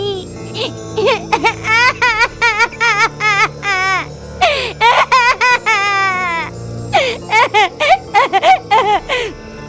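A small child cries in a church, with loud, close wailing sobs that come in repeated bursts broken by short gasping pauses.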